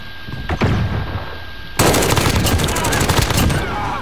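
Automatic fire from the Grau 5.56 rifle in Call of Duty Modern Warfare, a dense rapid burst that kicks in partway through and rattles loud and close for the remaining seconds, with muffled game ambience and faint talk beneath.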